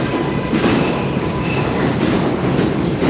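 A subway train rumbles loudly overhead in a city, a dense, steady roar of wheels and rails with faint clatter throughout and no voices.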